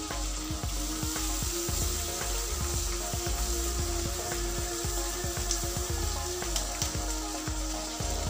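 Onion and capsicum pieces fry in a kadai pan for kadai paneer, hissing in a constant close sizzle with sharp crackles and repeated soft clinks of stirring throughout.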